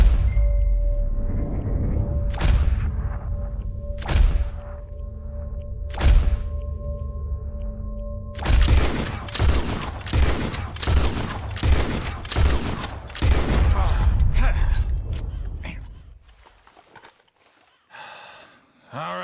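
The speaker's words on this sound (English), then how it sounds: "As soon as you see them, start shooting." Repeated shotgun and rifle blasts fire at birds in Red Dead Redemption 2, a sparse volley of sharp reports followed by a denser rapid burst, loud and close, with hoofbeats and breathy gasps in between.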